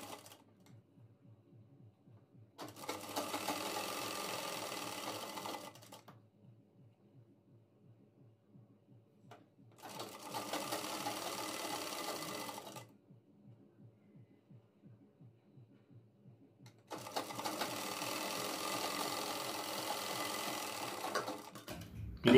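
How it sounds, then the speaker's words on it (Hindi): A sewing machine runs a straight seam through piping in three separate bursts of steady, rapid stitching, each a few seconds long, with quiet pauses between them. "अब यहाँ पर हम एक सीधी सिलाई लगाकर इन तीनों चीज़ों को आपस में अटैच करते हैं।"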